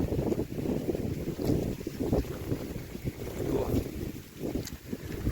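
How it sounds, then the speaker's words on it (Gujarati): Wind blows steadily through a tall sugarcane field on a village farm, a continuous rushing roar with gusty swells and rumbling buffeting against the microphone, with no other clear sounds. "પવનનો અવાજ આવતો હશે."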